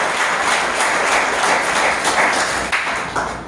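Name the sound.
church congregation applauding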